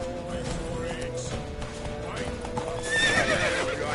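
A horse in The Witcher 3 on PS4, hooves clip-clopping steadily while it neighs loudly partway through, with shouting voices and game effects around it.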